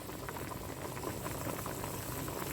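Pork bone and bamboo shoot soup boiling in a pot: a dense, steady bubbling that stays constant throughout, close but quiet, with no voices.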